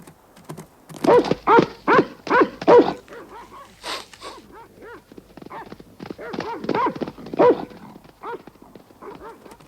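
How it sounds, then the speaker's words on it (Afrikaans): A dog barking in a snowy mountain setting, a run of loud, harsh barks in quick succession followed by softer, scattered yelps, close and without other sounds. "'n Hond."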